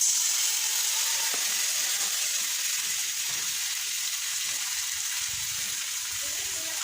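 Garlic and ginger paste frying in hot oil in a pan, a steady broad sizzle that holds evenly throughout at close range, with soft occasional stirring scrapes and no talk.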